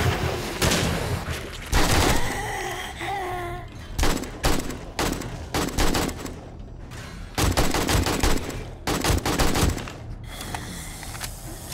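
Bursts of AK rifle fire in the 7 Days to Die game, several rapid volleys separated by short pauses, loud and close, with no talk over them.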